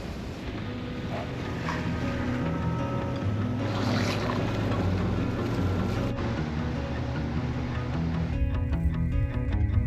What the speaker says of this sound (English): we dropped the sails and now we're just motoring the final 8 miles